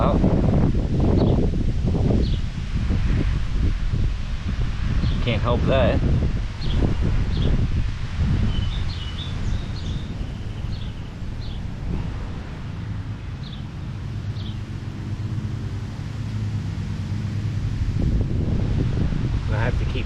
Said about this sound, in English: And it is windy as hell out.